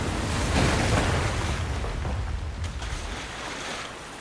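Rough waves slosh and surge against a boat rocking heavily at sea, with a steady broadband wash of water and wind swelling and easing, close and continuous with no voices.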